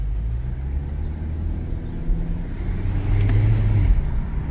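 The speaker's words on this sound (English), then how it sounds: "You can definitely hear the air being sucked in." Volvo XC40 Polestar turbo engine heard from inside while driving in eco mode, a low steady rumble with a rising whooshing intake note that swells louder toward the end.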